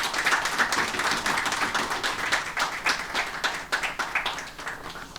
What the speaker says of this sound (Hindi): मालविका, आप आएँ और स्वागत करें ज़ोरदार ताली से।